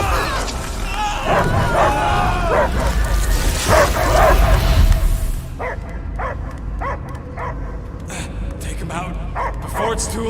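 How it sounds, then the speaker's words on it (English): Dog barking and yipping inside the video game Guardians of the Galaxy, heard as a run of short, spaced barks in the second half of the clip, following a stretch of loud, dense game noise and voices. "I hear only barking."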